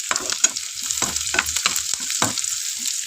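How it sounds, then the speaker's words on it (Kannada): Fried onion is stirred into a chilli mixture for North Karnataka dabbu menasinakai palya, with repeated spoon scrapes against the pan over a light, constant sizzle, close and without voices. "ಇವಾಗ ಇದನ್ನೆಲ್ಲ ಮಿಕ್ಸ್ ಮಾಡ್ಕೊಂಡ್ಬಿಡೋದು"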